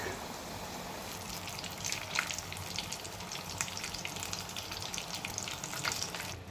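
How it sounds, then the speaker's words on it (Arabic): Korean-style chicken pieces, coated in garlic powder and paprika, frying in hot oil with a steady, dense crackle and sizzle that carries throughout, broken by brighter pops near the pan. "ونحطها في الزيت ونقول لها طلع معاك"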